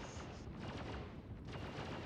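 Ground turrets fire in the space game Star Citizen, a faint, muffled run of rapid gunfire bursts and booms with no voices over it.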